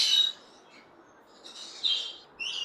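Fischer's lovebirds in breeder cages give short, high chirps in a few separate bursts, moderately close with quieter gaps between.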